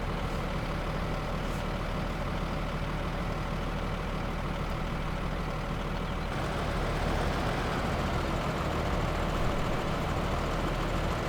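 A tractor engine in Farming Simulator 15 drones steadily as a low, rumbling idle that holds constant throughout, growing slightly louder in the second half.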